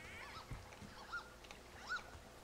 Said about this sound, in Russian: Утка крякает, что ли?